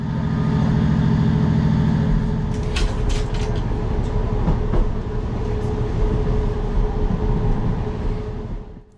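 A Transport for Wales diesel railcar pulls away from Swansea station, its steady engine drone and low rumble loud and close, with wheel clatter and squeals joining in as the train gathers speed.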